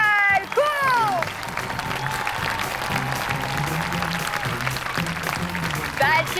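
Sustained applause from a television studio audience at an entertainment show, dense steady clapping filling the whole stretch with music playing underneath and brief whistle-like tones at start and end.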